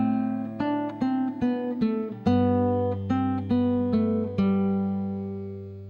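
Guitar playing measures 5 and 6 of Minuet in G, a sustained open A bass under a quick run of plucked melody notes on the higher strings, played close and unaccompanied, fading at the end.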